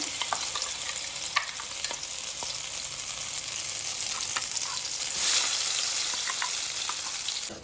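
Ground masala with chopped onion frying in a pan, a dense, continuous hiss with frequent spatula scrapes and stirring clicks that rise to a louder surge toward the end.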